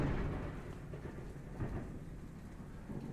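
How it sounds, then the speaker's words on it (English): Thunder rumbles low and distant outside during rain, a faint continuous roll with a slight swell midway, steady rainfall hiss underneath and no talking. "That thunder, it sounds great outside."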